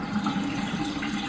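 Water from a soaking tub used for drum-making drains away with a continuous close gurgling rush. The sound stays steady and fairly loud throughout.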